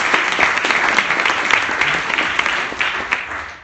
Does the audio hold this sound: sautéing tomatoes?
no